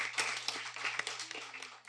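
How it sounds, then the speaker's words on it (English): An audience applauds a school debate team, a short patter of scattered hand claps, fairly faint, with a low steady hum beneath. "Please give Team Sonoval Richards Academy a round of applause."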